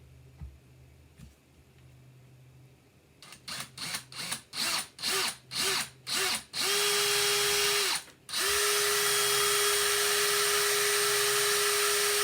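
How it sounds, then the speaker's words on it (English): A handheld power drill bores a small hole. It starts with a series of short trigger pulses, then runs in a long steady whine, stops briefly, and starts again. The drill is loud and close. "I'm just going to drill a little hole right here"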